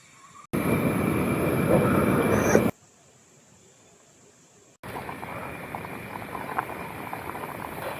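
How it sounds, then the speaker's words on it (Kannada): A pot of water heating over a fire for cooking rice at a solo night camp in a forest gives off a steady bubbling hiss that cuts in and out in abrupt bursts, close and fairly loud. "ಈಗ ಅನ್ನ ಮಾಡೋಕ್ಕೆ ನೀರು ಇಕ್ಕಿದ್ದೀನಿ. ನೀರು ಸ್ವಲ್ಪ ಬಿಸಿ ಆಗಲಿ"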